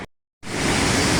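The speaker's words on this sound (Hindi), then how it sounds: "ये वो झरना जिसके बारे में हम बात करते हैं" Waterfall in Neelam Valley pouring steadily as a broad, dense rush of water, loud and close; it cuts in after a brief silent gap and then continues unbroken.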